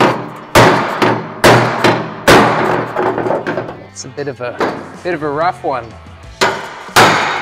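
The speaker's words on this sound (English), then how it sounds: "Don't hit your hammers like I'm doing right now." A cheap old hammer strikes a dent in sheet metal near a flange in a series of loud, sharp, ringing blows at an uneven pace, with someone speaking briefly between hits.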